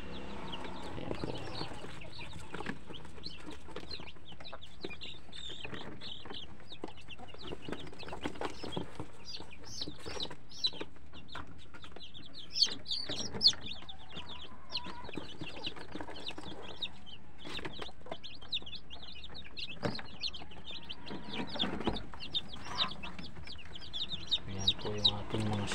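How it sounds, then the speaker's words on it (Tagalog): Newly hatched day-old chicks from an improvised refrigerator incubator cheep steadily and busily throughout, close and continuous, with soft clucking mixed in and occasional talk in the background. "Yung ating mga sisiw"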